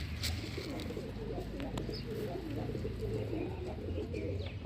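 Low, soft cooing comes from pigeons landing one by one on a cold, misty rooftop, a steady rumbling murmur with occasional clicks and faint chirps.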